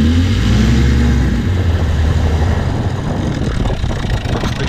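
A 1975 6 hp outboard motor running in reverse on a 14 ft boat, a loud, steady engine drone with heavy wind buffeting on the microphone and water churning, close by and continuous.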